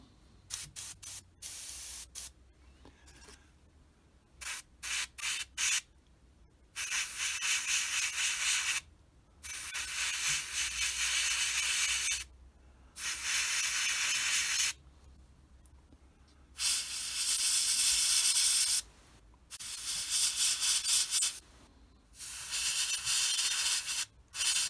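Airbrush spraying paint onto a Tamiya 1/48 F4F aircraft model: repeated hissing bursts of spray, each a few seconds long, separated by short pauses. The bursts are close and fairly loud, with no talking.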